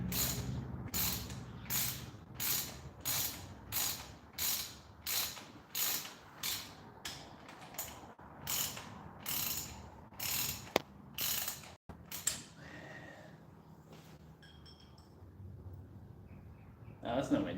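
A ratchet clicks in a regular rhythm while bolts are tightened on a Yamaha XS250 motorcycle engine being reassembled, about a dozen close, crisp strokes, followed by quieter fiddling and mechanical creaks.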